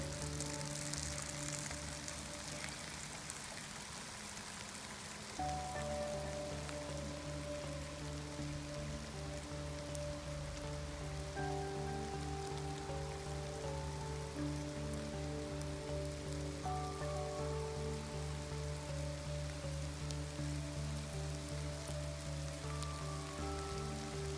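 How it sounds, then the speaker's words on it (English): An April rain shower falling on an allotment, a constant dense patter of drops on surfaces, even and close throughout, with steady tonal hums running underneath. "April showers"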